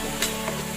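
Garlic, onion, pepper and seasoning stirred in a frying pan, a steady close sizzle with a couple of brief scraping accents in a short burst.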